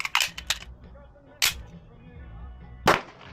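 Sharp, loud reports from an Apollo 11 Compact pistol, with a cluster of quick cracks at the start, then two more isolated bangs spaced over a second apart, the last one strongest.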